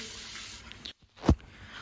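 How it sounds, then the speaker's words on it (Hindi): Water splashes and runs as basmati rice is rinsed, a steady tap-like flow broken by a brief pause and then a sharp splash, with no talk. "मैं चावल थोड़ा धो लूँगी यहाँ पर"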